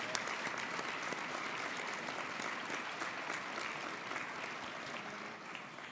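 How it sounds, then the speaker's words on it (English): Sustained audience applause at a Conservative party political convention plenary, a dense, steady wash of many hands clapping for the whole stretch, easing slightly near the end. "Let's give them a round of applause."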